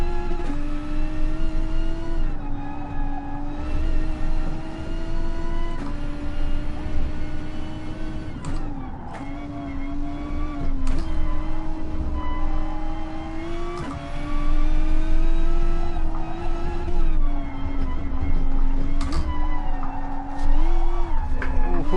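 Gr.3 race car in GT Sport on the Nordschleife, its engine revving and pulling hard through the gears in repeated loud rising surges with short drops between shifts, close and sustained.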